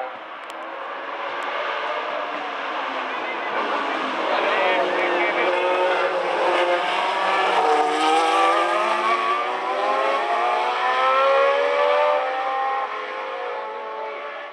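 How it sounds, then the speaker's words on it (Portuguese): A historic Formula 1 car entered by the Chris Amon Racing team races on the Boavista street circuit at the 2011 classic event, its loud, high-pitched engine howl building, shifting pitch as it passes close by and holding strong throughout. "Este era o carro da equipa criada por Chris Amon Racing."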